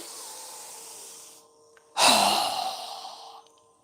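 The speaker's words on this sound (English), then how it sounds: "Strong exhale." A strong, forceful exhale through the mouth during a yoga breathing exercise, preceded by a softer breath, close and loud against a quiet room.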